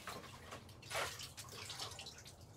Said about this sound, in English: Dunk it in the water.